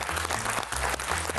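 Studio audience on a television quiz show breaking into brief applause, a dense wash of clapping that holds steady and loud over a low background tone.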